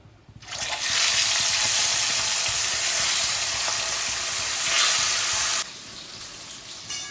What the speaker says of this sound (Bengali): বেগুন ভাজার তেলে মাছগুলোকে হালকা করে ভেজে নিচ্ছি।